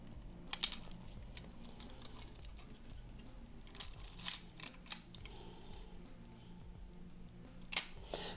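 Camera shutter held open in bulb mode, giving a few sharp mechanical clicks spread across a quiet room, with faint handling noise between them.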